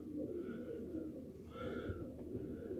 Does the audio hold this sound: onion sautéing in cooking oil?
no